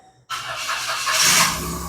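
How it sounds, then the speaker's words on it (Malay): Perodua Axia second-generation car engine restarting after the key is turned, a loud sudden catch followed by a steady idle with a squealing whine, close by and alone. "Okay, kereta boleh hidup."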